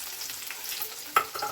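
Onion sizzling in a pan for a village-style greens palya, a soft steady frying hiss with a brief sharp stir or clatter near the end, close and fairly quiet.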